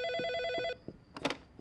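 A telephone rings in a Turkish TV drama scene: a loud, close electronic ring with a steady harmonic tone that breaks off, followed by a few soft knocks and a brief rustle.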